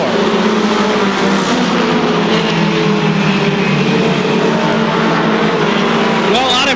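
Race trucks roaring around the Seekonk Speedway oval during a truck feature, a loud, steady pack of engines droning close by throughout, with commentators talking over the noise.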